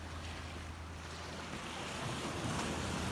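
Sea waves surge into a coastal cave at Lagos as the tide comes in, a steady loud wash of surf with wind rumble on the microphone, no voices.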